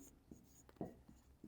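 A pen or pencil writes a math answer on paper, giving a few quiet, short scratching strokes up close, with no talk over it.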